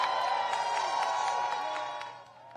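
Supporters of New York Attorney General Letitia James cheer and whoop as a steady crowd roar, loud and continuous with a few sharper shouts, fading slightly toward the end.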